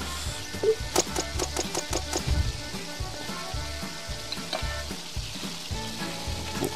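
A burger patty fries in the video game Order Up, giving a steady close sizzle with crackling pops and no voices over it.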